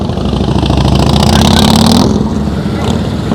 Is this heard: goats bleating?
no